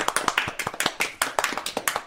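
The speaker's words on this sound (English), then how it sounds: "thanks for applauding for yourself there, Heidi" Applause in a radio studio, a fast uneven patter of hand claps that sounds like a single person clapping, close and dry, lasting about two seconds.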